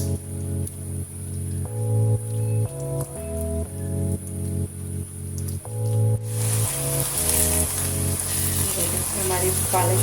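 Spinach being fried and stirred into roasted masala gives a soft, steady sizzle that swells in the second half, under background music.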